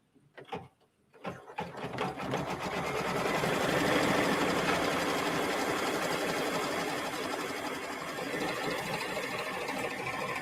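An embroidery machine stitches a letter onto a sweatshirt, a steady, fast rhythmic clatter of the needle running continuously after a few brief starting knocks, close and fairly loud.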